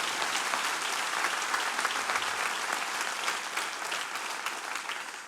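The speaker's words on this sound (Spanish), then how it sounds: "Si va a darle un aplauso, aplauda fuerte a Él." A church congregation applauds during a sermon, a dense steady wash of clapping from many hands that holds at an even level throughout.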